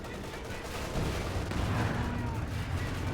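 Calliope rocket artillery fires in Company of Heroes 2, a steady rumbling barrage of launches and impacts that rolls on through the whole stretch, loud and dense, with a commentator's voice faintly mixed in.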